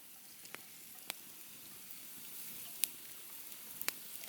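Eggs, jalapenos, onions and seasoning frying as an omelet over a winter campfire give a faint, steady sizzle with a few sharp pops and crackles.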